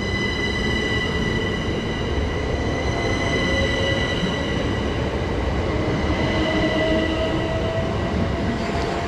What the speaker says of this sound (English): 375 921, heading off on a service to London Charing Cross from Hastings